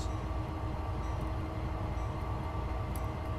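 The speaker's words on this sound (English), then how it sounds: "So now we're going to put the locomotive in reverse." A Train Sim World locomotive on Sand Patch Grade idles and rumbles steadily as it is put into reverse, a continuous low mechanical drone with faint clicks and no voices.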